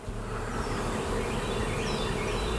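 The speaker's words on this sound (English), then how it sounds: "All the forage bees that are coming back, we got a ton of them too." Returning forage honey bees massing around their hive, a dense continuous droning buzz of many insects, close and steady with no voices.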